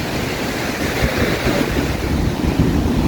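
Sea waves wash steadily onto the shore at Arugam Bay, a loud continuous surf roar mixed with wind buffeting the microphone and no voices.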